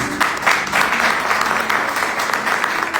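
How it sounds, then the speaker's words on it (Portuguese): Sustained applause from a church congregation fills the space at steady volume, a dense wash of many hands clapping together with no voices over it. "Se você puder, aplauda Jesus mais uma vez"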